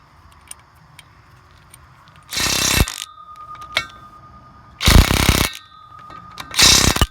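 Work under a 1965 Dodge D500 reconnecting driveshaft retainers brings three loud half-second bursts of a buzzing power tool, with faint metallic clicks and taps in the quiet gaps between.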